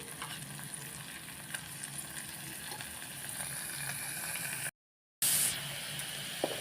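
Fresh chhana (paneer) frying in a spiced masala, a steady close sizzle with stirring scrapes, cut by a brief gap and then a sharp flare of hiss as the paneer goes in.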